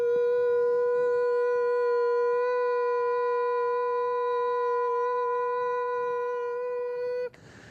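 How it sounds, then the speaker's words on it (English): Internal 1 kHz sine test tone from an audio board, a steady pure pitch with faint harmonics, held loud and unchanging for about seven seconds before it cuts off abruptly. "then F1 followed by sine wave 1 kilohertz."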